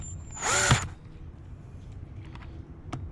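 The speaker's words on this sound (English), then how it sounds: "now we are going to simply tighten these down" A power drill tightens down bolts on a Hayward pool filter, giving one short, loud, close whir of under a second. A few faint clicks and taps follow in a quiet room.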